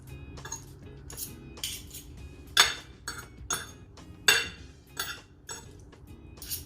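Metal cutlery clinks and scrapes against a dish while pancit canton hot chilli instant noodles are mixed, a series of sharp, close clanks at an irregular rhythm, with no talking.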